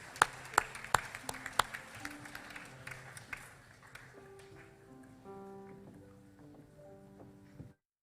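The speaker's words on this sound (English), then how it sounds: "continue that applause going for all our middle school award winners" Audience applause for middle school award winners at an academic awards assembly, opening with a few sharp claps before fading into a softer, thinning patter as sustained tones rise beneath it.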